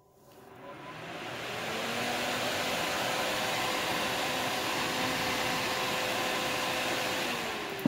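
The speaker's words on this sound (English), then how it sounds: "Just to give you an idea how much noise even a big 172 by 150 millimeter fan will make." A large AC electronic box fan, 172 by 150 mm, spins up and runs with a steady airy whoosh and a faint tonal hum, holding at a constant moderate level close by.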